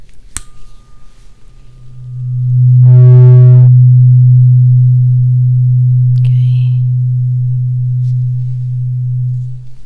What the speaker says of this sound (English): tell me if you hear a high pitch or a low pitch sound